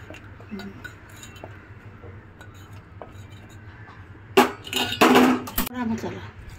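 A spoon scrapes and clinks against a pan while garam masala is mixed into a crab curry: faint steady stirring, then a louder burst of metallic clatter and scraping near the end, with soft talk in the background.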